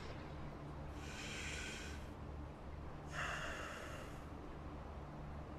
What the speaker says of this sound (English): Did you hear his breathing?